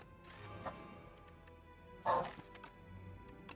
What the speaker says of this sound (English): I hear the dog barking